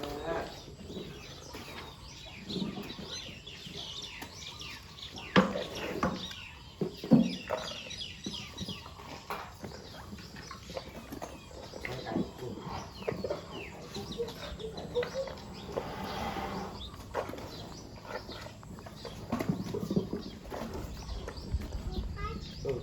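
Chickens clucking and fussing while feeding, scattered cackles and scratching with occasional louder bursts, mixed with close background noise as people talk throughout.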